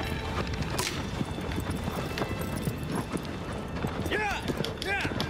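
Horse hooves gallop in a rapid, steady clip-clop rhythm in the Shadow of the Colossus video game, loud and continuous under a player's excited shouting.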